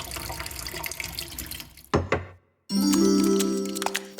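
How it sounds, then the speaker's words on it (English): Kimchi dunked into a cup of water makes a wet splash and slosh, then a short silence before a louder bubbling, running pour of water that keeps going to the end. "Let me dunk it in a cup of water to get a little bit of the chili pepper flakes out."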